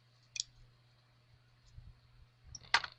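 Scissors snip through the threads of a locker hooked rug, giving a few sharp, close clicks spaced over a quiet background, with the loudest cut near the end.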